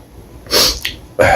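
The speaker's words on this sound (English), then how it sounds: "start sneezing uncontrollably and have to stop filming" A single close, sharp human sneeze with a quick breathy intake, followed by a second brief burst near the end of the short clip.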